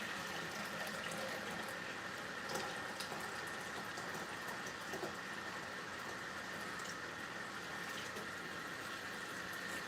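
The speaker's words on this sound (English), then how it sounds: "Four more cups of water." Four more cups of water gush from a measuring cup into a new electric canner in a long, steady, hissing pour with faint splashes, soft and close with no voices.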